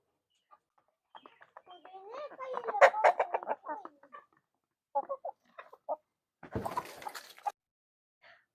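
Chickens cluck and murmur nearby in a series of short bursts, with a brief splashy scuffle near the end and quiet gaps between calls.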